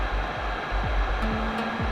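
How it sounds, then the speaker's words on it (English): Cooling fans of HDZero FPV goggles give a steady, fairly loud whirring hum with a sustained tone and faint sweeping shifts, close and continuous with no talk. "it's quite loud, those fans, but they have done something with the updates to make them a bit quieter"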